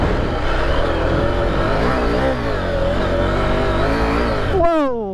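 A 2023 KTM 890 Adventure R motorcycle engine revs hard while riding fast off-road, loud and close with continuous rising and falling pitch, ending in a sharp throttle change.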